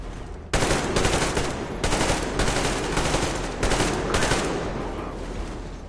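Machine gun covering fire in Metro Exodus, loud sustained bursts of rapid automatic shots in several long strings separated by brief gaps, close and dominant throughout.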